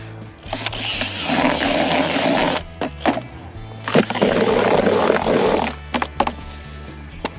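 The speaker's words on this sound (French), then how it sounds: "Dernier tour de batteur et on sera tout bon." An electric mixer beats fishing groundbait moistened with beer, its motor whirring loudly in two long bursts separated by brief stops and short knocks.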